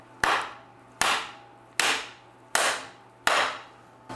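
Five sharp metallic hammer blows on a socket drive a carrier bearing onto a Toyota Tacoma drive shaft, struck at an even pace about once every 0.8 seconds, loud and close with a short ringing decay after each hit and no talking.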